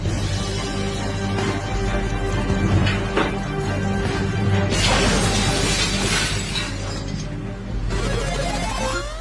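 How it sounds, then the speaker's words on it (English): Several sheets of glass shatter in a breakage test, a dense continuous crash of breaking and falling glass with sharp bursts around the middle and end, loud and sustained throughout. "Five sheets of glass were broken in that test."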